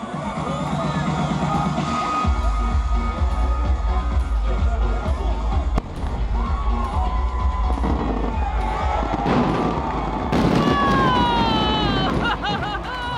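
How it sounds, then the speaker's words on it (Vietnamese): A giant firework bursts in the sky over Manta with a deep booming rumble. It is followed by a sustained roar of explosions, while a crowd cheers, shouts and whistles loudly throughout. "quả pháo hoa khổng lồ đã hoàn thành sứ mệnh rực rỡ của mình trên bầu trời Manta"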